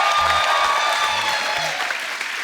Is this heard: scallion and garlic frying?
no